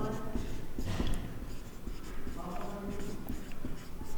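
Handwriting a math solution, likely pen or chalk on a surface while working a Class 10 linear-equations exercise, gives faint scratchy strokes under steady spoken explanation.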